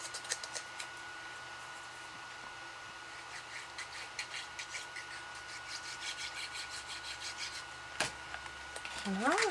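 A small square paper tab for a Christmas mini album with Japanese binding, folded in half and creased, making a steady close rubbing and scraping sound that ends in a brief louder rustle.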